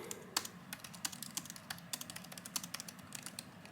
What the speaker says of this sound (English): practice some typing on it, some sentences I would type